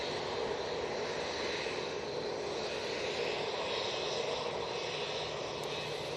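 An SAS Airbus A320neo departs Manchester bound for Stockholm, its jet engines a steady, broad roar held at an even level from a moderate distance, with no talking.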